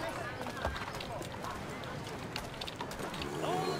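Galloping horse hooves in the video game Assassin's Creed 3, a steady dense clatter of clip-clopping running on under game sounds throughout.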